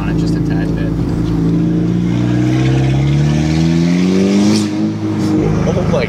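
A Volkswagen GTI with a turbo revs hard close by, a loud droning engine note that climbs steadily in pitch, then drops off near the end with a brief hiss, while a person speaks over it.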